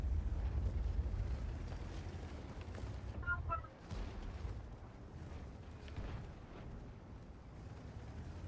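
Bomb explosions in the World of Tanks tank battle game: a dense, continuous low rumble of blasts and booms over several seconds, with a brief dip partway, fairly loud throughout.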